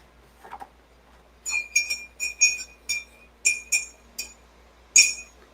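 A ceramic Delix coffee mug being handled, giving a quick series of bright clinks in irregular bursts, close and fairly loud against a quiet room.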